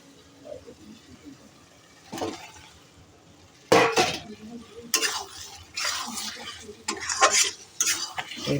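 Eggs go into a thick, well-cooked curry in a pan, first quiet, then a sudden clatter followed by repeated scraping and stirring bursts with a light sizzle underneath, no voices.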